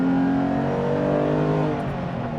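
Ruf SCR rear-engined sports car driving, its engine revving loud and close with a smooth rising tone that slowly eases off.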